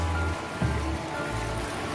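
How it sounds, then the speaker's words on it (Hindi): Water poured into a pot of chicken and potato curry on a high gas flame, a steady splashing gush that surges and eases in waves, close and alone. "पानी मैं डाल रही हूँ इसमें।"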